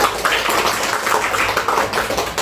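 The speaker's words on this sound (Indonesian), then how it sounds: "Tepuk tangan semangat." Applause from a gathered audience at a vocational high school event, a dense steady patter of many hands clapping at once for a couple of seconds, fairly loud and without talk.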